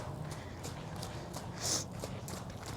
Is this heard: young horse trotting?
yes